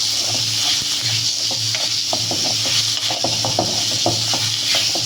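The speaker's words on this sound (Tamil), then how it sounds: "ஸோ இப்போ ஆனியனையும் நல்லா கோல்டன் ப்ரௌன் அளவுக்கு நல்லா சாத்தே பண்ணி எடுத்துக்குவோம்." Small onions sauté in a pan toward golden brown, with a steady hiss of frying under repeated scraping stirs and clicking ladle taps.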